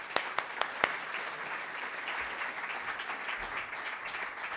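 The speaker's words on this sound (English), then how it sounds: "Can we give them a round of applause?" Audience applause at a conference session on water-efficient sanitation, a few sharp claps at the start swelling into steady, dense clapping from a crowd that holds for several seconds.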